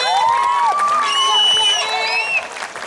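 An audience at a live Balinese comedy show featuring Desak Rai and Liku Menceng erupts in loud cheering, high whoops and shouts, with scattered clapping mixed in, close and lively for a few seconds.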